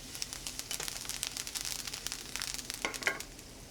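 Black garlic, fresh garlic and thyme sizzle in olive oil in a pan, a faint, crackling fry with soft stirring clicks and a couple of sharper pops near the end.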